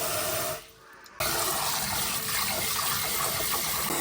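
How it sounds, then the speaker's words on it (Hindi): Water pours into a clear bowl in a steady, close rushing splash that briefly dips near the start, then resumes at full strength, with no voices. "मैंने इस बाउल में पानी ले लिया, क्लियर बाउल के अंदर।"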